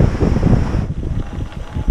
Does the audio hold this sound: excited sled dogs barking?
no